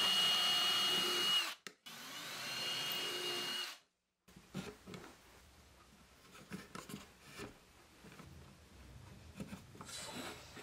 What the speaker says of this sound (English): I drill all the way through both pieces of wood and then I bring the nails in